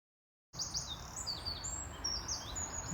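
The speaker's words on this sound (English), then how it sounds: "This tree here's got all the little birdies in." Small birds chirp and tweet in a garden tree, a steady scatter of high, bright calls over low background rumble, fairly close and continuous after a short silent start.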